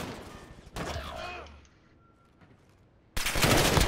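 Automatic weapon fire in Call of Duty Modern Warfare during a 2v2 match, a short burst at the start and a loud sustained rattle at the end, with players talking and a quiet gap between.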